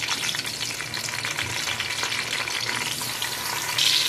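Onions and tomatoes fry in ghee in a pan, giving a steady, dense sizzle and crackle that runs the whole time at moderate loudness, with no voices.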